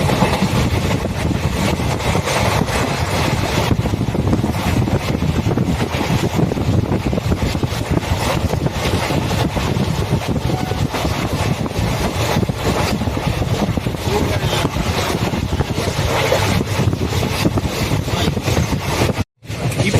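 A train on the main line between Trichy and Tambaram, running past Kollidam station toward Chidambaram, with a loud, continuous rumble and rattle of wheels and carriages throughout and a brief dropout near the end.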